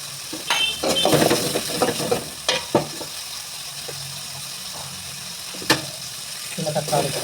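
Chopped onion sautéing in a pan for semiya biryani gives a soft, steady sizzle, broken by sharp metallic clinks and scraping stirs from a spoon against the pan. A few louder knocks stand out near the end.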